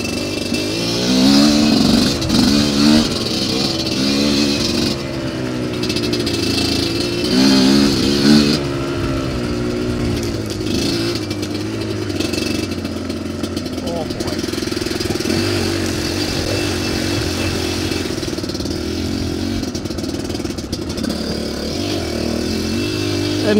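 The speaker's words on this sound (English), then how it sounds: "this bike lugs. It loves to lug." A dirt bike engine lugs at low revs on an off-road vehicle park trail, a steady loud mid-pitched drone with a few brief rises in revs early on, close and continuous throughout.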